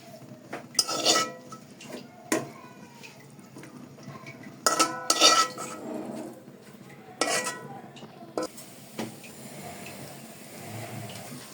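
Cooked khesari greens are lifted from a pan onto a plate, with a series of metallic clinks and scrapes of a utensil against cookware in uneven bursts, followed by quieter handling.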